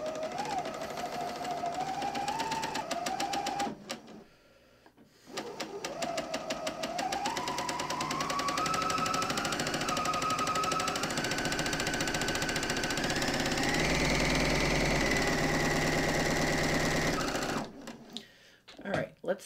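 Sewing machine stitching fabric at a low setting, a steady mechanical whir that rises in pitch as it speeds up, running loud for most of the stretch with a short pause early on and voices nearby.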